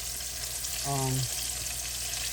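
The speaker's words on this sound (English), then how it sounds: "this is just frying on this one side" Continuous crackling sizzle of fish frying in hot oil fills the clip, with a brief low hum rising midway.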